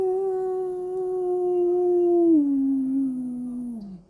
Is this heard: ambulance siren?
no